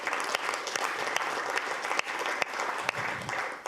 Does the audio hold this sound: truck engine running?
no